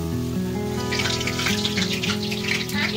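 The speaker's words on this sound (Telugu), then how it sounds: "ఇలా 2 సైడ్స్ లైట్ బ్రౌన్ కలర్ వచ్చేంత వరకు డీప్ ఫ్రై చేసుకోవాలి" Puris deep-fry in hot oil until light brown on both sides, a close bubbling hiss that swells in frothy bursts over a steady low tonal hum, with no talk.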